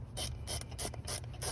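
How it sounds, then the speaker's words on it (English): A handheld ratcheting screwdriver drives a screw with a quick, regular series of close, loud ratchet clicks and scrapes, about five bursts in a steady rhythm and no talking. "This is a ratcheting screwdriver."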